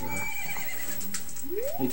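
A horse whinnies in The Legend of Zelda: Majora's Mask near the end, a rising nasal neigh over a steady background bed with faint clatter earlier.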